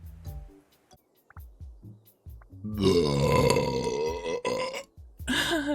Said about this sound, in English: That deserves a burp